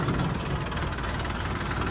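Close, continuous low rumble of a running tractor engine on a rough farm track, steady and fairly loud for the whole stretch.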